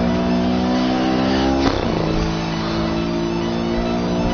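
Steady car engine drone in the racing game Need for Speed Rivals, holding a sustained rev with a brief spike and shift partway through, loud and continuous with no talk over it.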